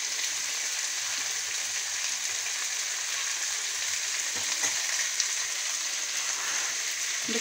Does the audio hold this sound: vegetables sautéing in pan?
yes